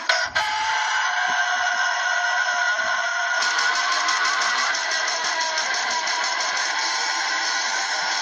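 A voice imitates a rooster crowing, a loud, sustained, strained cry that shifts pitch partway through and carries on for several seconds without a break.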